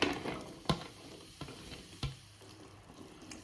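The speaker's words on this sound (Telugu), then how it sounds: "ఇవి నూనెలో బాగా వేయించుకోవాలి. కొద్దిగా కలర్ చేంజ్ అయ్యేంత వరకు చూసుకొని వేయించుకోండి." Cluster beans fry in oil with a soft sizzle as a utensil stirs them, giving several sharp scraping clacks over a quiet crackle.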